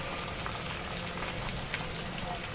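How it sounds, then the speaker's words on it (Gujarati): Steady light rain falls on the municipal office area of Dhrangadhra, a continuous even patter with scattered droplet taps and no voices. "વરસાદ ધીમી ધારે સતત ચાલુ છે."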